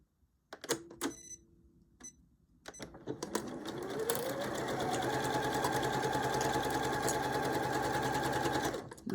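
Sewing machine running steadily while stitching layered fabric for a faux wrap top, starting with a few short bursts before settling into a continuous close, loud whir.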